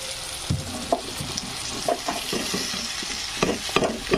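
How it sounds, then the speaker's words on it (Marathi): Okra sizzles loudly after going into a hot pan, with repeated scraping stirs and clinks of a spoon against the metal at irregular intervals, close and without talk. "छानपैकी अशी भेंडी टाकून घ्यायची."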